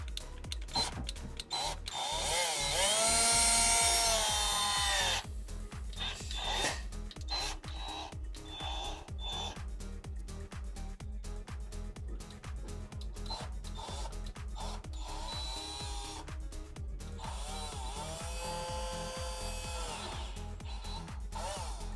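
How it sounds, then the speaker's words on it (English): A power drill whirs in bursts, drilling holes in pipe for air valves, the motor spinning up loudly and then running on in an uneven, grinding drone with short pauses. "drill some holes in the pipe for the valves"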